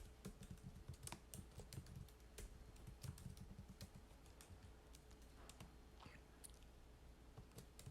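Steady, rapid typing on a computer keyboard as values are entered into a Microsoft Word table. The close, quiet clicking runs continuously over a faint background hiss, with no talking.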